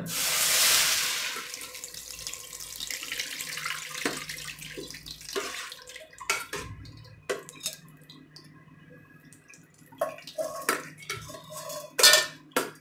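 Tamarind water pours briefly into a metal pan at the start, followed by scattered clinks and scrapes of a utensil against the pan in an otherwise quiet room.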